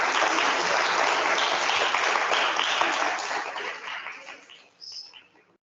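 An audience claps steadily after an architecture talk on the Holcim building, and the broad applause fades out over the last second or two.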